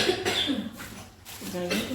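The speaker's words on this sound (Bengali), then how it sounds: "এদিকে মেয়েটার খুব কাশি হয়েছে" A girl coughing nearby: a few short, rough coughs in quick succession mixed with voiced throat sounds.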